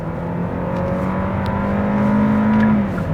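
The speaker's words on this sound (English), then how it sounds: "it's a 4-cylinder gasoline engine." A 2020 Hyundai Sonata DN8 with a 4-cylinder gasoline engine accelerates on a night drive in Korea, its steady engine drone heard from inside the cabin with a faint rising pitch and no talking.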